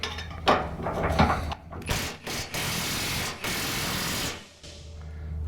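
Wrench and socket turning on a sticky axle, close grinding ratchet-like mechanical noise in loud sustained bursts with short pauses between turns.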